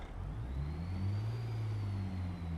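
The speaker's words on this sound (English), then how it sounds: "I finally got this engine sound a little louder, but now I want to get something different because it seemed like it's muted" Truck engine in American Truck Simulator, a steady low drone with a gentle rise in pitch as the rig accelerates, heard alone and fairly close with a faint high whine above it.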